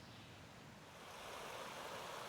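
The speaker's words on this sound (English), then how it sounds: "You can hear running water in the distance." A distant stream runs through a conifer forest in the Sipsey Wilderness, heard as a faint, even rushing of water that swells slightly toward the end, with no voices.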